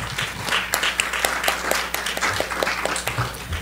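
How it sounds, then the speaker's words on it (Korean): An audience at a university talk on students' overseas volunteer work applauds a Pusan National University professor after her presentation. The clapping is steady and moderately dense, with a low hum underneath, and it continues evenly throughout. "멋진 발표해 주신 부산대 서혜 교수님께 다시 한번 큰 박수 보내주시기"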